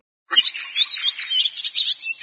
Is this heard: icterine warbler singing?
yes